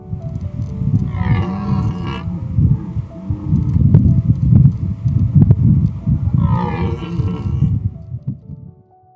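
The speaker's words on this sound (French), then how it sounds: "on a entendu les cerfs bramer autour de nous." Deep, drawn-out bellowing of red deer stags in rut, a low groaning roar that swells and fades over several seconds, fairly loud against an outdoor background.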